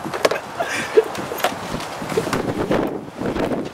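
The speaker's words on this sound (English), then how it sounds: "It's kinda windy out here" Gusty wind blows outdoors and buffets the microphone in low rumbling surges, with scattered small knocks and rustles mixed in as it rises and falls.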